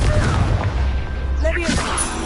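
A Confringo blasting-curse explosion from a Harry Potter-style wizarding video game gives a loud, booming burst with crackling debris, mixed in with a voice.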